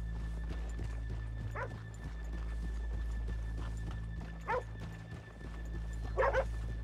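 Horse hooves clip-clop in Red Dead Redemption 2 as riders stop off a town's main drag, a steady plodding rhythm over a low ambient hum, with occasional whinnies and a dog barking in between.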